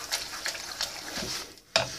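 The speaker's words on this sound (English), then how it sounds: "Just stir up your macaroni," Macaroni and cheese with milk being stirred in a pot for bacon mac and cheese, heard as soft repeated scraping and sloshing strokes close by, with a sharper clink near the end.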